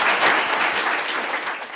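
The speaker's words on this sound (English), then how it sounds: "Let's give a big round of applause for Governor Pat McCrory." Audience applause fills an elementary school event in Union County, North Carolina, as a crowd claps steadily and loudly for the governor at a bill signing.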